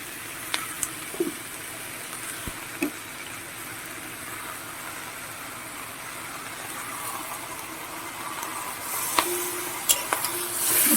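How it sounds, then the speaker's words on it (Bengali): Chicken pieces and vegetables cook in a pan with very little oil, giving a soft, low sizzle broken by a few sharp clinks and scrapes as they are stirred, with no speech. "চিকেনগুলো সবজির সাথে ভালো করে মিশিয়ে দেখছি কিছুক্ষণ রান্না করে নেব"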